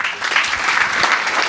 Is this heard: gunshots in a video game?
no